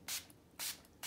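Wet n Wild Photo Focus natural setting spray misted onto a face in three quick, close hissing bursts, each a short airy spritz separated by brief pauses.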